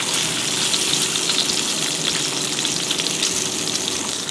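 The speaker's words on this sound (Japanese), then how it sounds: "これは最後に皮目をもう一回バチッと焼いて、" Duck breast sears skin-side down in a hot pan over high heat, producing a loud, dense, continuous sizzle close up with no talking.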